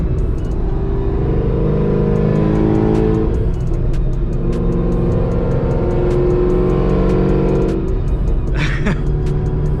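Chevrolet Camaro ZL1 with 1050X injectors and stock fuel pumps, exhaust revving repeatedly in loud, rumbling surges that rise and fall, recorded close and continuous with no talk.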